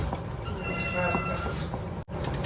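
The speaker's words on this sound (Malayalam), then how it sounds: "കണ്ട നമ്മളെ പൂച്ച വരെ ഇവിടെ ഓടിച്ചാടി എത്തിയേക്കാണ് നമ്മളെ ബീഫിൻ്റെ മണം കേട്ടിട്ട്." A cat meows once or twice nearby in a home kitchen where beef roast is cooking. The cries are short and fairly faint, set against room noise and a person talking.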